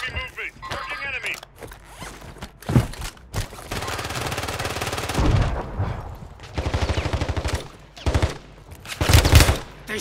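Gunfire in Call of Duty Warzone comes as several loud bursts of rapid automatic fire, separated by short pauses. Game voice lines and talk are heard between and over the shots.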